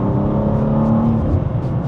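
A wide road car accelerates hard at full power to overtake, its engine droning loud and close with a rising whir, steady throughout with no voices.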